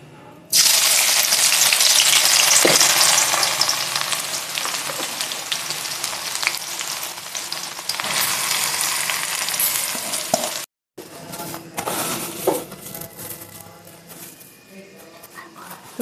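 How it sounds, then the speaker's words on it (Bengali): Sliced onions sizzle loudly in hot mustard oil in a kadai as they fry toward crisp birista, a dense, hissing crackle with occasional stirring knocks and one brief dropout. "এবার আমরা পেঁয়াজটাকে ভালোভাবে ভেজে পেঁয়াজের বেরেস্তা বানিয়ে নেব।"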